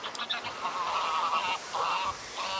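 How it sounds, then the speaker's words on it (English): A flock of pink-footed geese honks continuously at a distance on The Wash in Norfolk, many overlapping calls forming a steady chorus. "These are pink-footed geese."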